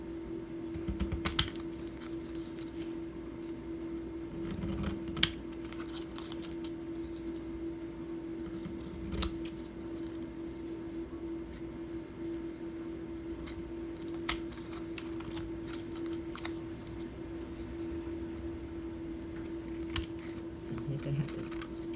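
Scissors snip through paper while decorating a junk journal, making sparse, brief crisp clicks spaced irregularly over a steady low hum in a quiet room.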